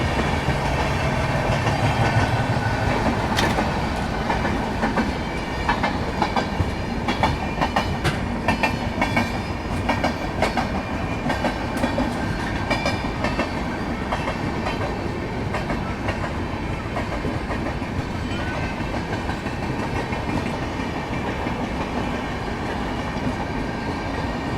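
Inside the Azimabad Express passenger train on the Patna to Ahmedabad route, a loud, steady rolling roar of wheels on rails continues throughout, with rhythmic clickety-clack over joints and no voices.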